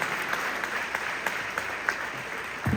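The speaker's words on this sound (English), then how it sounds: "put a giant round of applause?" Concert audience applauding at a show, a continuous crowd clapping texture with a few sharper individual claps standing out, heard without talk.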